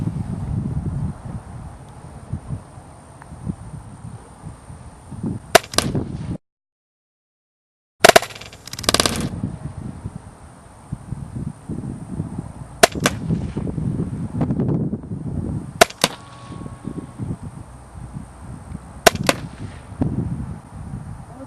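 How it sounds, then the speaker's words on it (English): A Tiberius T9 air-powered paintball-style marker fitted with a scope fires First Strike rounds at a target box outdoors. Several sharp, separate single shots come at irregular gaps against a light wind. "let's go ahead and take our first shot and let's see if we even hit the box"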